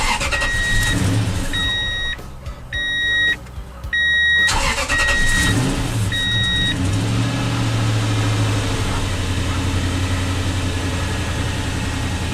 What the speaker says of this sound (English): You can keep it idling with your foot